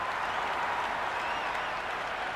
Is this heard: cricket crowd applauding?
yes